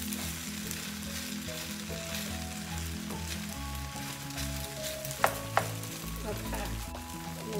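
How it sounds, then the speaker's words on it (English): Thai shrimp fried rice with green onion stir-fried in a hot pan, a steady close sizzle running throughout with occasional scraping and two sharp utensil knocks near the end, no talking. "Here's the green part, mix that in."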